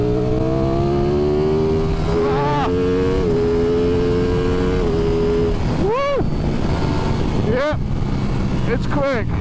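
A 2023 Ducati Streetfighter V4S being ridden fast on a road, its engine loud and close, revving with quick rising pitch sweeps at each gear change and hard acceleration.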